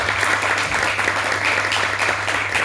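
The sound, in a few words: audience applause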